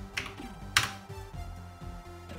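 A few light key clicks on a Commodore 128D computer keyboard, close and faint, with two sharper taps standing out against a steady low background hum.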